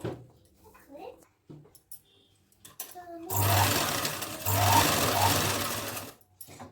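A sewing machine stitches fabric for a four-year-old's churidar, a loud, fast whirring run of about three seconds close up, preceded by quiet handling noises and someone speaking.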